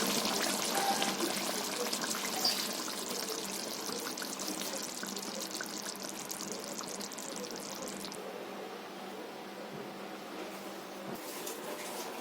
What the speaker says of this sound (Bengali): আমি এখন ঢেলে নেব